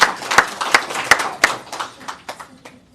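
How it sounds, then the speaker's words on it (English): A short burst of scattered clapping at a mayor's press conference, a handful of sharp claps spaced irregularly and fading out over a few seconds. "Round of applause for our dogs and our officers."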